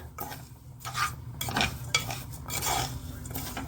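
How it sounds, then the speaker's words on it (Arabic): Vermicelli frying in oil and melted butter in a pot, close scraping stirs and clinks of a utensil against the pan over a soft sizzle. "انا حطيت هنا شوية زيت، وهجيب قطعة زبدة تسيح هحط عليهم الشعرية"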